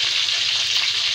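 A pork chop frying in a pan gives a steady, close, bright sizzle with crackling spatter that holds without a break, and no voices are heard.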